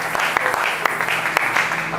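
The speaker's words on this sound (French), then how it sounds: "Est-ce que tu peux acclamer le Seigneur?" Church congregation at a Friday worship service clapping together in a steady, fairly loud applause, with some voices mixed in under the clapping.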